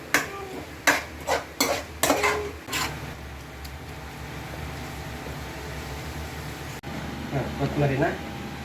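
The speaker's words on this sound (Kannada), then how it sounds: "ರುಚಿಗೆ ತಕ್ಕದಷ್ಟು ಖಾರ ಪುಡಿ ಹಾಕಿ ನೀಟಾಗಿ ಕಲಸಿ." Egg rice with chili powder is mixed in a pan: several loud scraping stirs of a spoon come first, then a quieter stretch of low sizzling and hum, with speech present.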